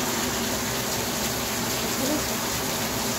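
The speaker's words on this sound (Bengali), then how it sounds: "বাইরে জোর বৃষ্টি হচ্ছে" Heavy rain falls outside during kitchen preparation of maan kochu, a steady broadband wash of water noise that stays even throughout, with faint speech under it.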